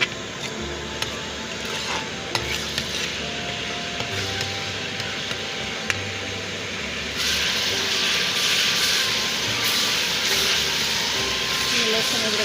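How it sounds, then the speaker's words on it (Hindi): Garlic-ginger paste fries in a pan, giving a steady, loud sizzling hiss that grows brighter and stronger partway through, with a few faint utensil knocks. "ये लहसुन अदरक का पेस्ट मैंने शामिल कर दिया, इसको फ्राई कर रही हूँ।"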